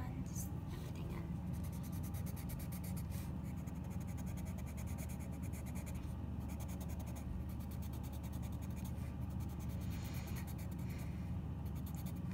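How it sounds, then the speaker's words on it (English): A blender pencil is worked over a colored pencil drawing of a gem, giving soft, scratchy strokes that run faintly and continuously beneath a steady background hiss. "I'm going to use the blender pencil to blend everything in"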